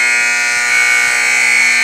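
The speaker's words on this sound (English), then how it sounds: "As the buzzer continues to go," A loud, steady electronic buzzer blares without a break, a harsh high-pitched tone holding for the whole stretch.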